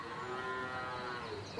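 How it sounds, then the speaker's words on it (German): Cows mooing in a barn within a radio drama, a long, steady, drawn-out low moo dominating the scene, fairly close, with no talk over it. "die Kühe, die müssen gemolken werden. Du hörst es doch."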